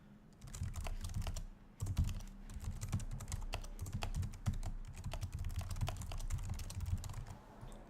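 Steady computer keyboard typing, close and continuous, with rapid irregular key clicks and a brief pause near the start while a subject line and message are entered on a desktop.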